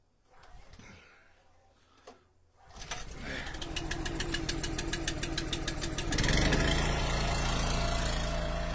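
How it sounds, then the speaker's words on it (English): A Honda engine, likely on outdoor power equipment, is pull-started after some faint handling noise, catches and settles into a steady rapid idle, then rises louder and rougher near the end. "Let's see how this Honda starts."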